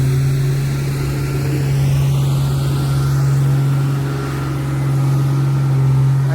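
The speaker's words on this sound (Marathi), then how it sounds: "या गाडीच्या आवाजामुळे ना काही समजत नाही." A car engine idling near a seaside temple at Mithbav, Devgad, a loud steady hum that dominates throughout.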